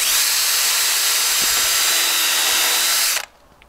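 A DeWalt power drill countersinking with a drill bit whines loudly and steadily for about three seconds, then cuts off abruptly into quiet.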